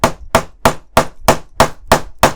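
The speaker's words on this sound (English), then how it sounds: "Going to use this brilliant hammer." Eight sharp, evenly spaced hammer taps on the track links of a 1:16 scale Leopard 2A6 tank model, each a crisp close knock with a short ring, roughly three per second and alone.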